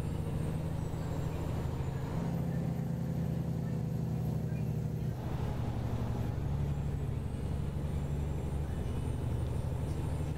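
A Kenworth T800 truck engine in American Truck Simulator drones steadily at low pitch, shifting note once or twice as it pulls, loud and continuous with a voice talking over it.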